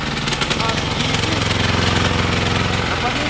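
A Weima Deluxe WM1100A diesel walk-behind tractor runs at full throttle outdoors in minus 7 winter cold, its loud, steady, fast-knocking engine drone filling the whole stretch close by while someone talks over it.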